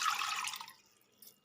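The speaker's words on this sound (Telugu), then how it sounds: "దీంట్లో కొంచెం వాటర్ కూడా పోసుకోవాలి." A short pour of water into a pot of ulavacharu (horse gram soup), a brief close splashing rush that fades within a second.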